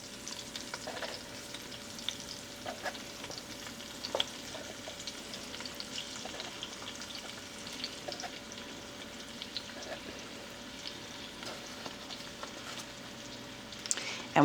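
Sausage browns in a pan with a soft, steady sizzle and scattered crackles and pops, fairly quiet and close, with no voices over it.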